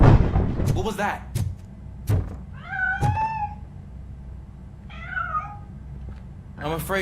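A cat meows in the RoboCop video game: a few separate rising-and-falling calls at moderate distance, heard over steady low game background noise with brief thuds, while a person talks between the calls.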